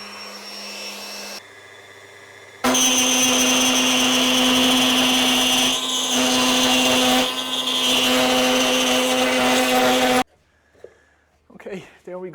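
A router runs loudly on a homemade plywood router table with a steady high whine, after shorter bursts of lower machine noise. It cuts off abruptly, and quiet talk follows.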